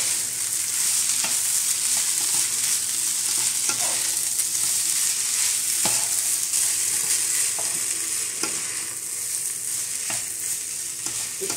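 Pork pieces sizzle and fry steadily in a hot pan, a continuous crackling hiss with occasional scrapes and stirs, close up and without talking.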